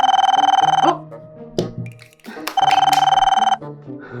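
Telephone ringing in two bursts of rapid electronic trilling, close and loud, separated by a short gap filled with clatter and a voice speaking.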